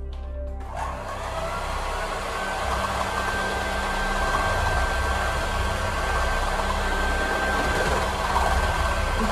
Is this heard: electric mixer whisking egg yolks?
yes